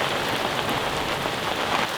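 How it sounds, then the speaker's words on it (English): Heavy rain falls on a sailing boat at anchor, making a dense, steady hiss and patter that is loud and continuous throughout. "definitely rain like this"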